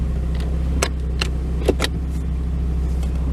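A 1993 Mazda NA with an automatic transmission idles with a steady low engine hum while the shifter is moved through the gears, giving a few sharp clicks and clunks.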